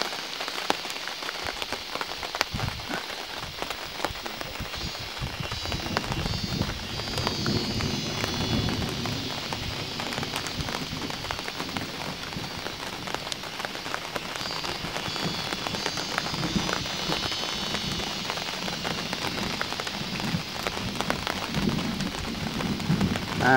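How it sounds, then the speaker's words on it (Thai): Steady rain patters on the forest canopy and ground in Khao Yai, a dense, even hiss that holds unbroken throughout with no voices. "ฝนก็ตกเปาะแปะเปาะแปะ"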